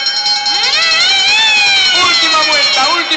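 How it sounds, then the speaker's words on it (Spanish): A siren starts a keirin final at a six-hour track cycling event, its loud wailing tone sweeping up and down continuously over steady crowd noise. "Vamos a ver, porque se les va a anunciar al toque de sirena."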